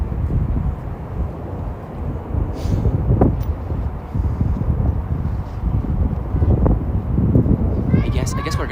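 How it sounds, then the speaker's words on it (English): Gusting wind buffets the microphone outdoors during a skate ride, a dense low rumble that swells and eases throughout, with a few brief sharper bumps over it. "It's windy"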